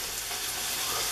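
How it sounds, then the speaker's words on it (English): Chicken sizzles and spits in a hot pan as it is stirred, a dense, loud, continuous frying hiss with no pauses, heard alone and close up. "I just got to stir my chicken."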